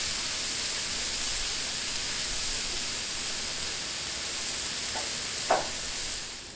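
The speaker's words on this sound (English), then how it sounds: "It's going to sizzle." A steady hiss of steak sizzling on a hot Blackstone griddle, constant and close, with a brief sharp crackle near the end.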